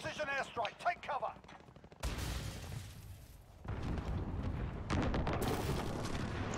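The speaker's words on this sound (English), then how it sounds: "Enemy precision airstrike, take cover!" An enemy precision airstrike hits in Modern Warfare, with gunfire bursts giving way to heavy rumbling explosions and sustained blasts that stay loud to the end.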